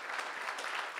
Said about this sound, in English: We're going to give you a round of applause